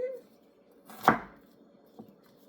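A single heavy knife chop through onion on a cutting board, close and sharp, followed by a fainter tap about a second later in a quiet kitchen.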